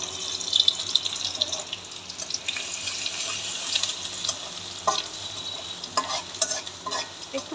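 Onions fry in oil left over from frying turmeric- and chili-coated catla fish, a soft continuous sizzle broken by intermittent stirring scrapes and clinks, fairly quiet and close with no voices.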